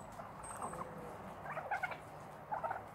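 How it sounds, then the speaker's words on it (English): Turkey hens squabbling, with three bursts of agitated gobbling and squawking at about a second and a half apart, moderately near over a steady noisy outdoor background. "Turkey fight. Come on, hens. Quit fighting over the boys."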